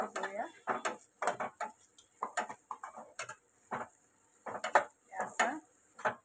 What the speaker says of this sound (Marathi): आधी आपण हलवूया गाजर टाकून.